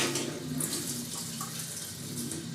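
Water runs from a kitchen tap in a steady, soft hiss with light splashing, drawn for Hawaiian roll dough in a bread machine.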